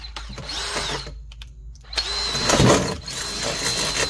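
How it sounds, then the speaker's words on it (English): A power drill whirs in short bursts, spinning up loudly as it drives a screw while fitting bulb sockets into a bathroom exhaust fan, with brief pauses between runs. "Okay, let's get it on the drill."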